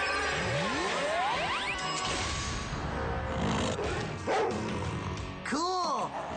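A big Rottweiler barks in a cartoon, several loud bow-wow barks mixed with swooshes, a crash and zany sound effects over a busy animated soundtrack, with some voice-like tones.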